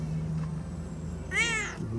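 A mother cat gives one short, clear meow close by, rising then falling, over a low steady hum in a quiet home.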